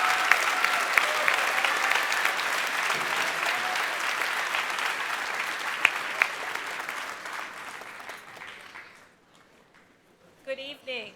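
Steady applause from a commencement ceremony audience rolls on for about eight seconds at moderate distance, then fades away, followed by a brief voice.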